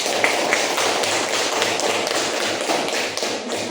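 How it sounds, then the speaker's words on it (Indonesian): Classroom audience clapping for a presenting group, a dense continuous patter of many hands, loud and close throughout. "Beri aplaus untuk kelompok 1."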